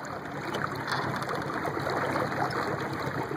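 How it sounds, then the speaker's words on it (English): A small homemade boat runs its 30-pound-thrust electric trolling motor at full speed against a light current, giving a steady broadband wash of water and wake noise with a faint motor whine throughout. "let's go to full speed. This is full 30 pounds of thrust here. I'm not sure if you can hear the wake."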